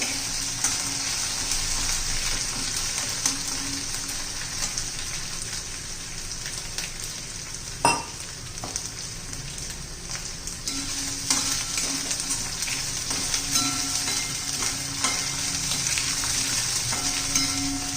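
Garlic and green chili sautéing in hot oil in a pan for Vidarbha-style fenugreek alan, a continuous, loud sizzle and crackle with occasional stirring scrapes and one sharp knock.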